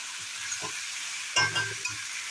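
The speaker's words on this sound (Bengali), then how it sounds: "এখানে বেগুনটা আর আলুটা ভালো করে একটু ভেজে নিই।" Eggplant and potato pieces fry in oil in a pan for a fish curry, a soft steady sizzle broken by a couple of brief stirring scrapes.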